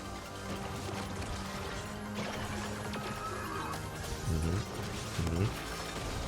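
A horse neighs twice in a video game, short whinnies over a busy backdrop of game music and effects, with faint clip-clop and crashing sounds.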